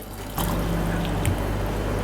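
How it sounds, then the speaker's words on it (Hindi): Two cups of water pour steadily into a pot holding raw mango, a continuous close splashing rush that starts abruptly and keeps going, with no talking. "ये मैंने 2 कप पानी डाला है"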